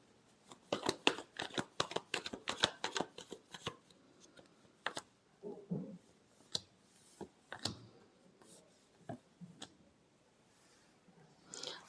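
Tarot cards being shuffled by hand give quick, crisp bursts of riffling and flicking, tight clusters at first, then sparser taps and slaps later on.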